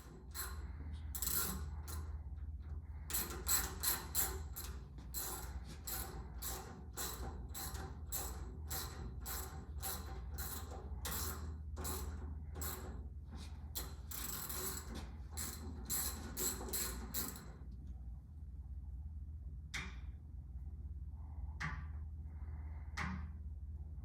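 A Tri-Tool 620 pipe beveling machine cuts with sever and bevel bits, giving loud repeated metallic clicks and scraping bursts in a fast irregular rhythm over a low steady motor drone, then quieter sparse clicks.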